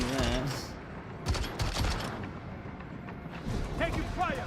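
Bursts of gunfire and rumbling blasts in the video game Death Stranding 2, dense and heavy, with a voice speaking over parts of it.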